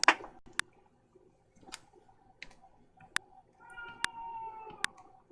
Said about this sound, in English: there's a cat meowing